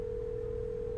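Steady continuous telephone dial tone in the Nancy Drew game Secrets Can Kill Remastered, a single unbroken hum heard clearly and alone for the whole moment.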